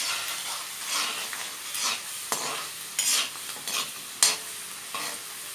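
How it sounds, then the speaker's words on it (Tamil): Finely chopped garlic fries in hot oil for garlic broccoli, a steady sizzle broken by the scrape and clatter of a spoon stirring the pan at close range. "அந்த பூண்டு நல்லா வதங்கட்டும்."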